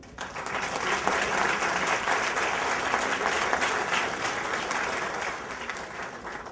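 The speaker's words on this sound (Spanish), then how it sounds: "Deseamos un fuerte aplauso, por favor" Audience applause at an award ceremony, sustained clapping from a large crowd that swells quickly, holds steady for several seconds, then begins to fade.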